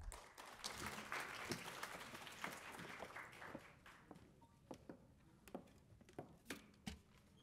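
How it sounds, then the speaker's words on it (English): At a foundation day celebration, an audience breaks into dense applause for a speaker. It thins out into scattered, separate claps toward the end. "Please join me in giving a hearty round of applause for her."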